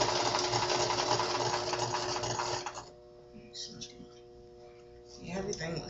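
A sewing machine stitching the front seams of a corset runs in a steady, loud whirring burst for about three seconds, then stops, leaving quiet room sound and a person speaking softly.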